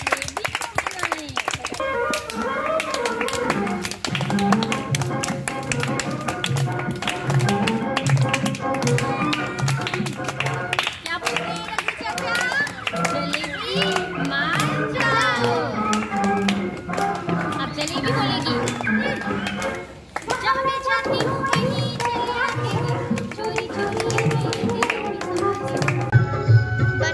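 Children at the final day of a summer camp clap together in a steady, sustained patter of many small hands, close and lively, with kids' voices and chatter mixed in throughout.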